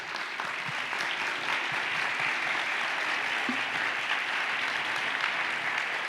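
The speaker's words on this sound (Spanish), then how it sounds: "así que otro aplauso para ellas" Steady applause from an audience at a panel event on technology transforming industries, dense and continuous for about six seconds with no voices over it.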